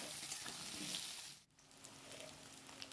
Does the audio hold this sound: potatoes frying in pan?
yes